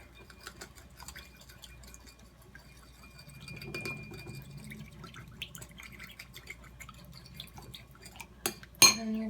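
A spoon stirs a glaze flavored with liquid smoke for a turkey-style seitan loaf in a small container, making faint close clinks and soft liquid swirling that end in a sharp tap, without talking.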